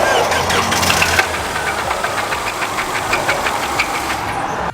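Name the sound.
car engine starting and knocking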